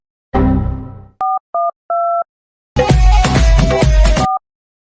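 A loud tone sounds briefly, then a few short keypad beeps are dialed, followed by a burst of harsh noise and one more beep.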